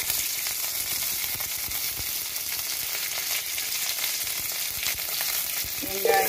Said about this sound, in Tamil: அதில் கடுகு போட்டுக்கலாம். கடுகு புரிஞ்சோடனே காஞ்ச மிளகாய் ஆட் பண்ணிக்கலாம். நெக்ஸ்ட்டு கருவேப்பிலை.